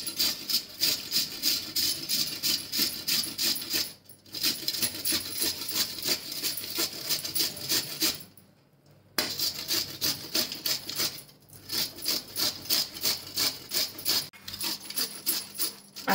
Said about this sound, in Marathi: असे जाडे किसणे घ्यायचे आणि त्याने असं किसून घ्यायचं कारलं